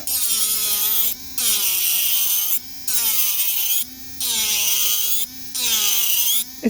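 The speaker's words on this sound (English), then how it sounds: "I'm going to grind into the acrylic a bit more now and see if we can get some of the bulk off." A Kredioo electric nail drill grinds down an acrylic nail in five close, loud bursts of high whirring whine, each separated by a brief pause.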